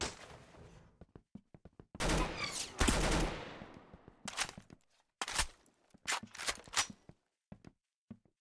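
Gunfire in the Roblox game Arsenal: loud bursts of automatic fire and scattered single shots in uneven volleys, with quick ticking clicks between bursts and no talk.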